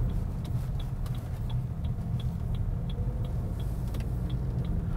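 Suzuki Grand Vitara with a K15 smart hybrid engine under kickdown on a slight uphill, a steady low engine drone heard from inside the cabin, with a faint regular ticking running throughout.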